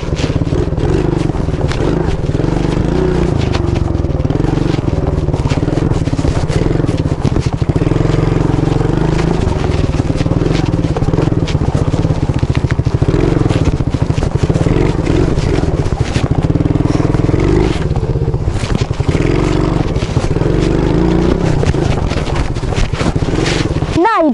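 A motorcycle engine drones steadily throughout an off-road ride, with wind buffeting the microphone and voices talking over the ride.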